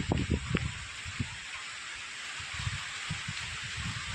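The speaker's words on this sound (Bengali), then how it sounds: "ঘন কালো মেঘ করে এসেছে বৃষ্টি হচ্ছে দেখো" Rain falls under dark clouds with gusty wind, a steady broadband hiss with a few dull knocks and rustles, fairly close and even throughout.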